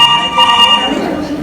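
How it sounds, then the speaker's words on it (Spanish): A telephone rings loudly in a theatre performance, its steady electronic trill sounding close before breaking off as voices talk over it. "¡No lo cojo! Teléfono."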